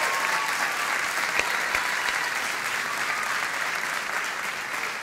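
Sustained applause from a theatre audience at the Teatro Oscar, greeting a rapper: a steady, dense wash of many hands clapping at constant loudness throughout, without pauses.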